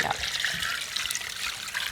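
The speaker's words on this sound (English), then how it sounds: "Then, Des, we add enough water to cover that chicken." Water pours steadily into a pot over chicken to make stock, a continuous splashing hiss lasting the whole moment, moderately close.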